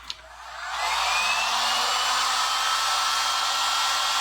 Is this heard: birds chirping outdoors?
no